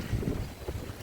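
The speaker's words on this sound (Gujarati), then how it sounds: "પવન પણ વધારે છે." Strong wind gusts during a rainstorm, a close, rough buffeting rush with uneven surges over a short moment.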